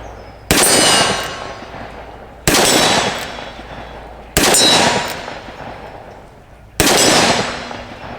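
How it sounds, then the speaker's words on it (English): Four loud, sharp revolver shots from a Smith and Wesson 686+ firing magnum rounds, spaced about two seconds apart, each with a long ringing decay, close by with no talking. "so let's shoot some magnums"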